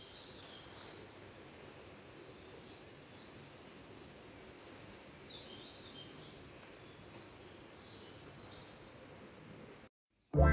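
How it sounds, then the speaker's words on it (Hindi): Faint birds chirp now and then in the morning over a quiet outdoor hum, light scattered calls in the distance. "चिड़ियों की चहचहाहट सुनाई दे रही है।"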